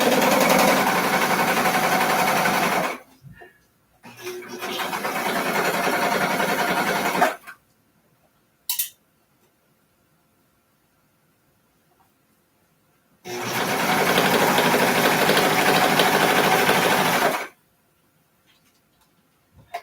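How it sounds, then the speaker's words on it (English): A serger stitches a garment sleeve closed in two loud, steady whirring bursts with a pause between them, then a brief click and quiet. "Serging the sleeve close."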